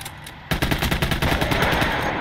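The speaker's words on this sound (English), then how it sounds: "50 caliber is doing good work." A .50 caliber machine gun fires in the World War II game Gates of Hell: Ostfront during a tank fight, a loud rapid burst of evenly spaced shots starting abruptly after a quiet moment and rattling on close by.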